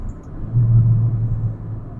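A tuned Alfa Romeo Giulia engine with an ECU tune drops through downshifts on a winding road, a deep steady rumble that swells briefly and settles, heard from inside the car with no talking.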